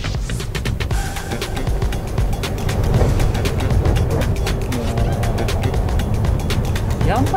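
A Subaru Levorg GT-H EX accelerates on a public road, its engine note rising steadily from the cabin under road noise, with people talking over it.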